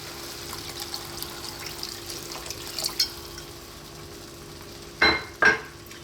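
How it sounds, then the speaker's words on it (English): Water poured into a pan of frying kidney bean curry (rajma masala) makes two short, sharp splashing bursts near the end, after a stretch of quiet background sizzle with faint stirring. "Now I'm going to add some water."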